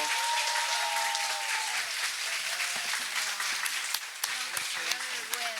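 A conference audience applauds loudly and continuously after a lecture, dense clapping filling the whole stretch with scattered louder claps toward the end.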